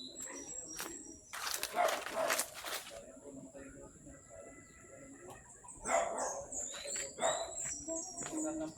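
A dog barks in short bursts at a rural farm property in Liliw, Laguna, the barks at mid distance with birds and other outdoor ambience around them.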